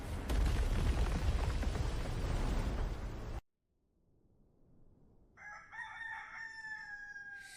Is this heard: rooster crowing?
yes